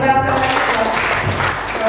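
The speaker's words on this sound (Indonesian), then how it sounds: "Kita lihat tepuk tangan." Attendees at a cooperative's annual members' workshop and meeting applaud in a broad, continuous wash of clapping, loud and near, with a voice and some music-like tones at the start.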